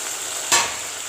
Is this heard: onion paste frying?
yes